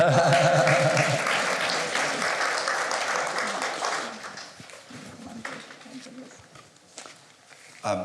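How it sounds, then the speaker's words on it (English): An audience at a forum inside Grace Cathedral in San Francisco applauds, a dense burst of clapping that starts loud and gradually thins and fades, with scattered claps and murmurs near the end. "Let's give them an applause."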